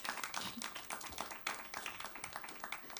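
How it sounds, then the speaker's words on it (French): An audience applauding at a literary talk, a brief patter of many hands clapping at moderate distance, fairly faint and even throughout. "Vous pouvez les applaudir."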